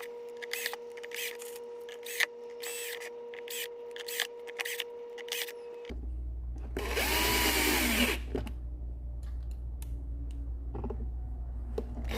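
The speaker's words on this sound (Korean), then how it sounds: "이곳에 이제부터 본격적으로 나사를 박아서 고정을 하게 됩니다." Power drill driving screws to fix a homemade elbow-style livestock feeder in place, with a steady machine hum and a few short whirring bursts, one longer grinding burst in the middle.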